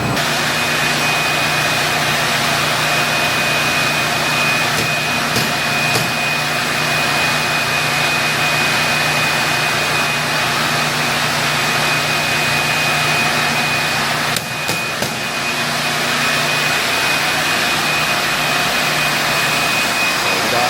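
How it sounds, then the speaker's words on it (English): Concrete grinder fitted with concrete bits working a floor being prepped for epoxy in a barbershop, a steady loud roaring drone with a high whine running throughout and no pauses. "get the right concrete bits on there, and then I'll grind the concrete"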